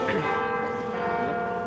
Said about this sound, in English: The bell is tolling for a mate